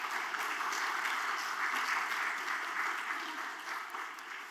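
Sustained applause from a church congregation during a Sunday worship service in Bucheon, steady dense clapping that holds for several seconds and slowly fades toward the end, with no voices over it.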